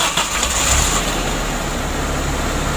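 A Daihatsu Taruna injection engine with a compression leak runs at a steady, fairly loud idle right after starting, close up with no voices.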